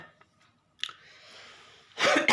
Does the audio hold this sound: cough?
yes